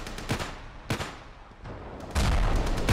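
Gunfire and grenade blasts from the video game Ravenfield on a D-Day Omaha Beach level: sharp isolated shots, then a louder burst of explosive fire near the end.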